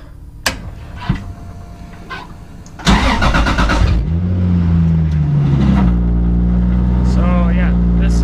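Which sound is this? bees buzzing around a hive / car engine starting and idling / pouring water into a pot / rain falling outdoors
car engine starting and idling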